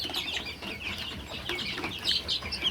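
Farm chickens cluck continuously in a busy flock, with overlapping calls and some brief wing flapping, fairly close and steady throughout with no talking.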